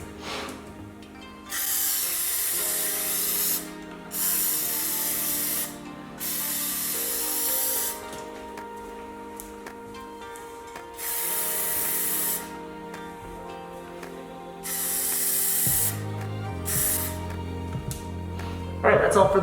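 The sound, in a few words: spraying Plasti Dip coat onto PS5 covers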